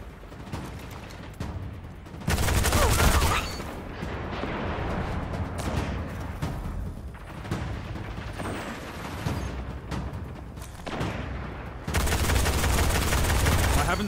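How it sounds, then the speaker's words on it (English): Heavy gunfire during a firefight in the video game Destiny: loud, dense bursts of weapon fire and blasts that swell and ease over about fourteen seconds, with game music or voices faint underneath. "Haven't seen a firefight like that since Twilight Gap."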